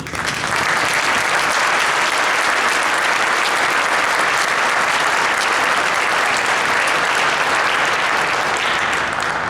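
A large audience at a military pass-in-review ceremony applauds the drill team staff, a loud, dense, steady wash of clapping that holds at full strength from start to finish.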